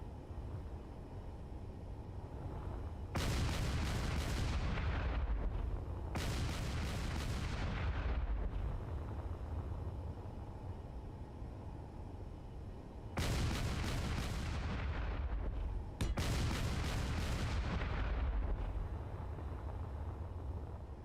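Gunfire aimed at a target sounds in four loud, sustained bursts separated by steady rumbling background noise, each burst sharp at onset and then tapering away.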